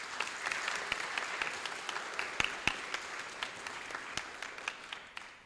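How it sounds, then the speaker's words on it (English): Audience applause for the core Honors College faculty of Virginia State, steady clapping from a crowd throughout, with a few sharp louder claps standing out near the end. "A round of applause for all of these folks, please."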